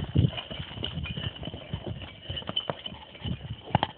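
Logging horses walking through a woodland work site, their hooves clip-clopping in an irregular close rhythm with scattered thuds, and nobody speaking.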